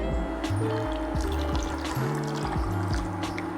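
Water trickles and drips as a rinsed air filter is squeezed out, a soft, close liquid patter running steadily under faint tonal background hum.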